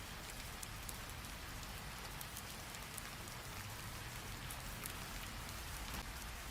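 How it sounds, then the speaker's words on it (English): Steady rain falls on a surface, a continuous soft hiss with scattered raindrop ticks, quiet and even from start to finish with no voices. "let the rain gently carry you into rest"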